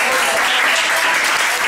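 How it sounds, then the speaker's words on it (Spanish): Loud audience applause at a charity fashion show, dense continuous clapping from a crowd that fills the whole moment without any speech. "Un aplauso que le damos a todos."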